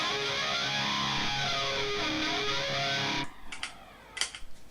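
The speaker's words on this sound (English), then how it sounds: "If I stick a flanger in there, it sounds like this." Electric guitar run through an MXR flanger pedal rings out in a dense, sustained wash of sweeping, swirling harmonics for about three seconds, then cuts off into a few faint clicks and taps.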